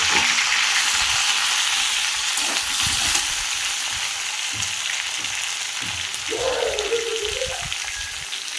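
Tomatoes frying in poppy seed paste in a pan, giving a loud, continuous sizzle with soft stirring scrapes and a brief clatter near the end.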